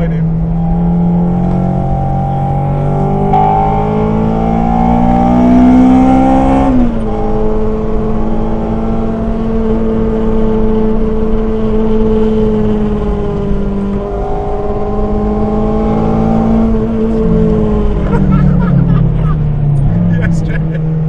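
A Mini race car runs on the Donington circuit, its engine note rising and falling in steady revving harmonics through the whole stretch, with crowd babble and commentary-style talk mixed in the background.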